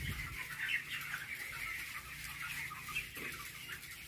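Broiler chickens about 24 days old cluck steadily throughout a poultry farm shed in antibiotic-free rearing, a dense overlapping chorus of many birds at moderate distance with no talk over it.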